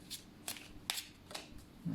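Oracle cards handled and drawn during a new moon reading: a few quick papery flicks spaced unevenly, close and moderately loud, ending with a short low murmur.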